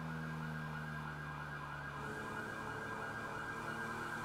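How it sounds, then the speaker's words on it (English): A police siren in a video game wails steadily and loudly for the whole stretch, layered over a low droning road-vehicle rumble, with no voices. "I hear another siren coming."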